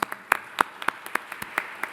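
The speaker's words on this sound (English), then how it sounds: "Give yourselves a round of applause." Sparse applause from a small group at a geography symposium, individual claps distinct and irregular, moderately close, with no voices over it.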